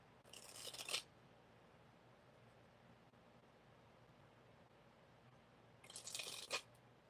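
Tarot cards being shuffled off camera, two brief bursts of crisp riffling about five seconds apart, faint against a quiet room background.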